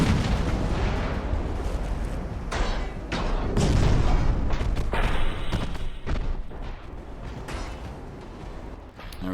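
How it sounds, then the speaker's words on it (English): Battleship guns fire in the naval game Ultimate Admiral: Dreadnoughts, a dense run of heavy booms and rumbling blasts that overlap and roll on continuously, loud and close. "let's get everybody firing on him"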